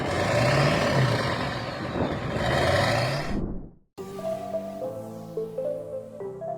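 Pickup truck roaring through vertical exhaust stacks mounted right behind the cab, a loud revving blast that fades out abruptly, followed by a different tonal sound.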